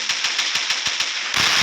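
Rapid gunfire in the Gun Battle mobile game, about seven evenly spaced sharp shots in quick succession, followed by a louder burst of noise at the end.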